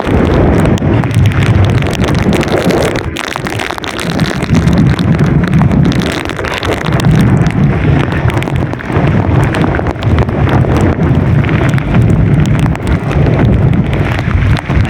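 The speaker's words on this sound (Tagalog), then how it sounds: "Grabe yung hangin, lakas." Strong typhoon wind buffets the microphone at a bridge on Diversion Road in Northern Samar during Typhoon Uwan, a loud continuous roar with gusting rumble throughout and no pauses.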